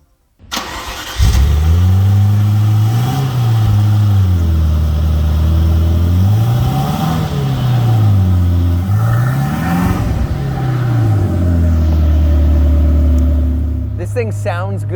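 A high-revving sports car engine cranks and catches, then settles into a loud, steady idle with rhythmic rises and dips in pitch, ending with a brief rattle.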